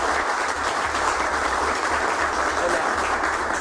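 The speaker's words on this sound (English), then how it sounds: "Round of applause for Rennie." Audience applause at a DetailFest flex polisher detailing class, a steady crowd clapping wash filling the whole stretch with a low rumble beneath it.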